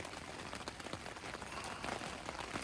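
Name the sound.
steady rain falling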